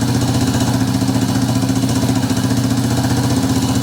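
A Yamaha 350 Warrior ATV engine idles steadily up close, a continuous low rumbling putter with no talk or change in speed after recent carburetor trouble.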